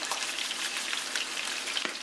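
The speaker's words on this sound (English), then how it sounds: "these chicken breasts, which are sizzling fantastico right now" Chicken breasts seasoned with garlic powder, paprika and pepper sauté in a hot pan for jambalaya, giving a steady, loud, close sizzle with crackling pops throughout.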